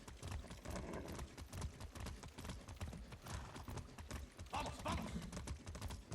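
A horse gallops in the video game Far Cry 6, with quick, rhythmic hoofbeats drumming steadily and close throughout at modest loudness.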